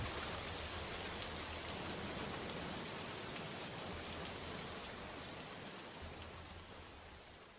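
Steady rain beats against a window in a dense, even hiss that fades slightly toward the end, with no voices.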